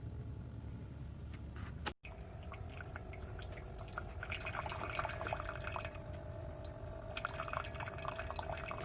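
A Chefman coffee maker running a cleaning cycle with hot water gives off steady dripping, gurgling and trickling, moderately close and continuous, with a brief cut in the sound early on.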